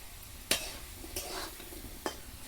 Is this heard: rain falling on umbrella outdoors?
no